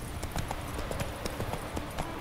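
Hooves of a galloping horse in The Witcher 3, a steady quick clip-clop rhythm, fairly faint and heard alone.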